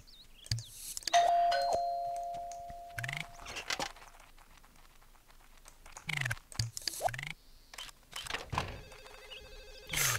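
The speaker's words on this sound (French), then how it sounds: "Téléphone. C'est important de répondre." A telephone rings in The Sims, with repeated electronic ring tones among game sound effects, clicks and chimes.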